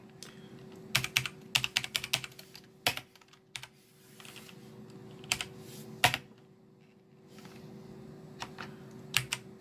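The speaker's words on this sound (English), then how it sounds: "Okay, so I'm gonna type" Keystrokes on a computer keyboard come in quick bursts of sharp clicks separated by short pauses, close and clear over a steady low hum, with no talking.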